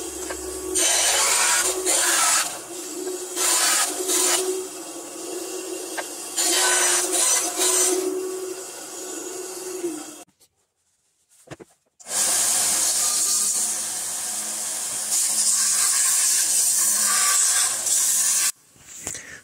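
A small sander grinds steadily against a purple heart wood knife, a loud continuous abrasive whir that cuts out briefly near the middle, then resumes until just before the end.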